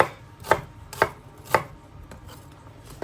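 Garlic being chopped with a knife on a board for a Guinness chilli: three distinct crisp chops about half a second apart, then fainter light taps, close up with no talk.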